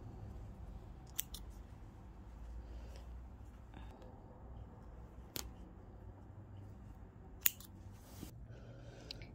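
Top stitching is snipped out of a seam on a 100% linen dress, with a few sharp, isolated scissor clicks at uneven intervals over a quiet room background.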